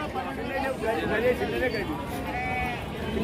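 Goats and sheep bleating at the Rajarampalli livestock market, several calls rising over a busy crowd murmur while people talk nearby.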